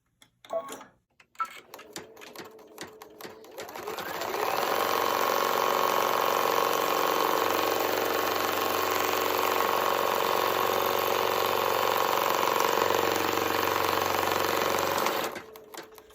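An embroidery machine stitches a rectangular fabric placement line onto stabilizer, a steady, loud mechanical whirring and rapid needle chatter that runs continuously for about eleven seconds before stopping, with a few faint handling clicks at the start.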